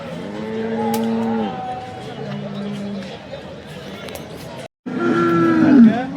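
Cows moo loudly and repeatedly at the Sangola cattle market, long drawn-out calls close by, over a busy background of crowd chatter and voices.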